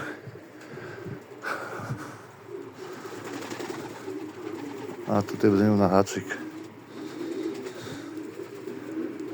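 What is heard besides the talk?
male pigeons cooing in the pigeon loft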